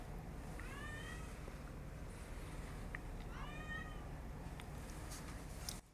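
A cat meows outdoors, two distinct drawn-out calls at moderate distance over a steady low rumble of background noise.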